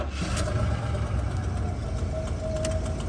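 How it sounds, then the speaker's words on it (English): An old classic car's engine idles steadily nearby, a low continuous rumble with no speech over it. "So I'm gonna start the old car up and let you guys hear how it sounds."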